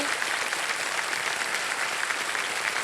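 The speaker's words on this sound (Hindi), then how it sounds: "एक बार फिर जोरदार तालियों के साथ इनका स्वागत करते हैं।" Dense, steady applause from a large studio audience at a televised quiz show, welcoming a young contestant; continuous and even throughout, with no talk over it.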